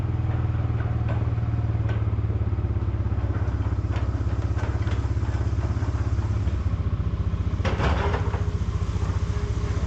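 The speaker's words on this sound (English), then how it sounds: "let's follow the excavator down" A big excavator drives down toward a placer gold mine dig site, its loud, steady diesel engine rumbling up close with intermittent metallic clatter from the tracks.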